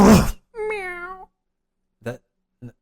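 A cat meows loudly and close by in one drawn-out call, followed by two shorter meows, after a short burst of noise at the start.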